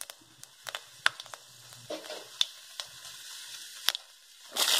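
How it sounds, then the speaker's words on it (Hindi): Fennel, nigella and fenugreek seeds sizzle in hot oil while being stir-fried, a faint crackle broken by sharp pops and clinks of stirring, swelling into a louder hiss at the end. "इसे हम हल्का सा स्टर फ्राई करेंगे ताकि ये अच्छे से भुन जाए।"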